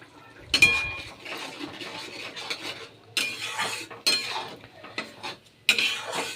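A spoon stirs and scrapes spice masala of Kashmiri chilli powder, turmeric and salt in a pan, giving several separate clinks and scrapes with short pauses between them, close by.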